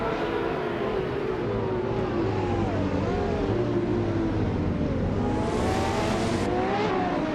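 Race car engines roar in a video game at the JS Turbo GP track, a 2012 Ferrari 599 leading the pack, a steady loud drone of several engines with rising and falling pitch as cars accelerate past.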